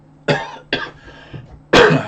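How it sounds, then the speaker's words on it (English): Three sharp, close coughs: two quick ones in succession, then a pause and a louder, harsher third. "Oh, a wee bit of a cough."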